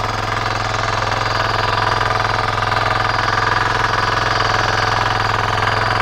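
A small farm machine, billed as doing a tractor's work, runs its engine after being switched on: a loud, steady, close chugging idle with a constant low throb and no talking.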